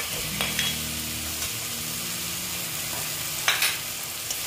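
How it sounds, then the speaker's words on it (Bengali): Potatoes drop into a hot frying pan for an egg and potato curry, giving a steady frying sizzle with a few stirring scrapes and clinks, close by with no voices. "দেখো আলুগুলো দিয়ে দিচ্ছি"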